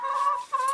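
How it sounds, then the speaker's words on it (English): A hen clucks in a short, close run of tonal calls while pecking at a camera outdoors; the sound stays steady and clear with a brief dip near the middle. "I'm just laughing at my chicken because she's just pecking at my camera"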